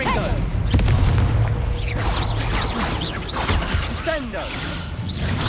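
Fiery blasting spells go off in a wizarding action video game, with repeated explosive booms and whooshing bursts over a dense, loud battle soundscape, while a character's voice calls out spell names between hits.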